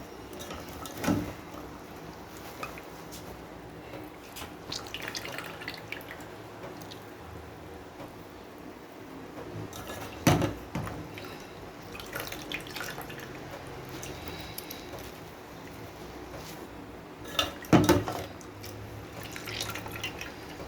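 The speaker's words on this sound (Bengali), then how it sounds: "এখন আমি এটা ভালোভাবে জলটাকে চিপে চিপে ফেলে দেবো" Soaked, cooled soybean chunks squeezed by hand so water drips and splashes into a bowl, faint dripping with a few louder wet squelches and splatters spaced across the stretch, no voices.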